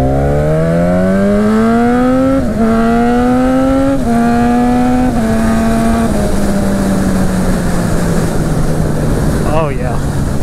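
A Muttley parts-bin motorcycle engine revs and climbs through several gear shifts, its rising pitch dropping at each change before settling into a steady drone, loud and close throughout.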